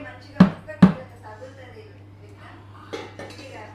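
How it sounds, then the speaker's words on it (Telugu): Mango pickle pieces tossed with masala in a metal vessel give two sharp clanks near the start and a few softer knocks and scrapes later, with faint speech in the background. "ముక్కలు మంచిగా కలిసేటట్టు చేస్తాను అంటున్నా అత్తమ్మ."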